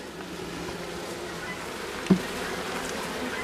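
Young honeybees from an autumn colony hum steadily and softly around the hive, a continuous low insect drone with a single brief knock partway through.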